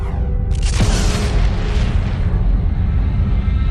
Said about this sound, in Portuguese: Em nossa galáxia, a Via Láctea, uma imensa estrela explode